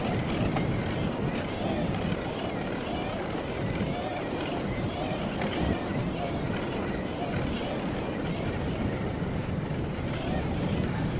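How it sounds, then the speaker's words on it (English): Apollo RFN electric dirt bike ridden wide open through sand whoops, a steady loud roar of wind buffeting and drivetrain whine with rough low rumble throughout, no breaks or pauses. "Holding it wide open in these sand whoops."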